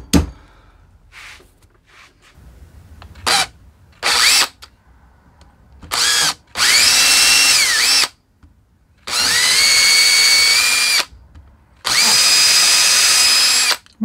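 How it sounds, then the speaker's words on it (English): A power drill bores into the wooden handle of a hatchet in loud repeated bursts, short blips and then several sustained whirring runs of a few seconds each, separated by silence. "I'm gonna drill in about an inch into each one of these."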